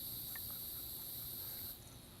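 Crickets chirp in a steady, high-pitched drone against a quiet outdoor background, fading slightly toward the end.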